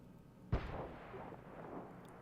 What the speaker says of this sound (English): any second now, the Excelsior is going to shoot the AMX13AM